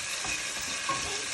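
Beef stew pieces browning in a pot hiss in a brief, steady sizzle with faint stirring movement, close and moderately loud, and nobody speaks.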